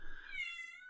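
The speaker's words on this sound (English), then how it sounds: "That's a cat. That's not a baby." A cat gives a single loud, drawn-out meow, close and clear, with a rising whining tone that holds steady before trailing off.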